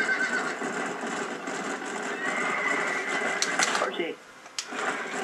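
A horse in the video game Red Dead Redemption lets out a whinny over a dense, busy game soundscape. Hoof sounds and a few sharp clicks come through, and someone talks over it at times.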